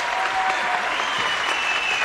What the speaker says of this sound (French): Merci, applaudissements pour eux.